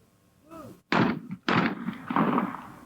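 Two sharp shotgun blasts fired in quick succession at doubles trap in a 1999 World Cup shooting event, each crack followed by a brief echoing tail, loud and close.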